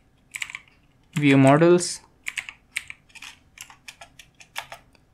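Code is typed on a computer keyboard in a steady run of crisp, close key clicks, following a short spoken phrase.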